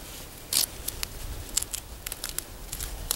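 A duct tape fire-starter package holding a cotton ball, torn open by hand outdoors: a sharp ripping burst followed by several quick crinkling tears and crackles, close and fairly quiet, with no talking.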